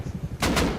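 Sniper rifle gunfire in a video game, shot at a helicopter: a loud burst of two heavy cracks arriving after a quieter stretch of low rumbling, close and dominant.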